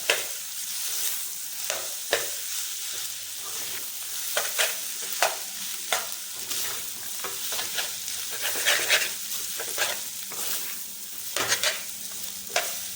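Maggi noodles stirred in a pan at close range: repeated scraping, clacking strokes of a utensil against the pan over a soft cooking hiss, with no talking.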